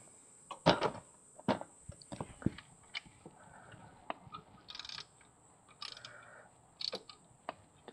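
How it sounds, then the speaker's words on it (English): Bolts on a Nissan X-Trail QR25 engine, during head gasket replacement, are tightened by hand, giving sparse quiet metallic clicks and ratchet-like ticks at irregular intervals against a faint steady hum. "once they're finger tight, just going to tighten them down"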